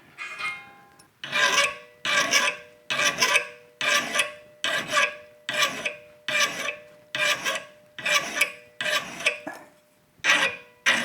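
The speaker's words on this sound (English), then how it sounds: "So a little filing is in order" Hand file working a gravel bike's rear brake mount in a workshop, with about ten loud, evenly spaced rasping strokes, each separated by a short pause, close up.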